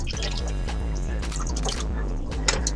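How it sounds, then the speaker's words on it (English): Wine sauce pours and drips into a pot in a continuous, close liquid trickle, with a low steady hum underneath. "I'm going to put this wine in here. This is just the wine sauce"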